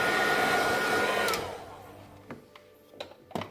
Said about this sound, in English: Notice how I keep the heat gun moving, not going to burn in the LCD at all.